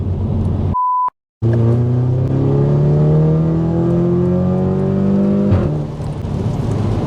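An Audi TTS accelerates hard through the gears, its loud nearby engine note climbing steadily with a brief beep at the start, then a quick gearshift and renewed pull near the end.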